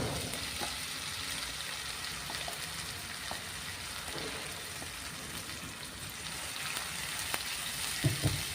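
Green pea paste frying in a wok, giving a steady, moderate sizzle and crackle throughout with a few small pops near the end, no voices.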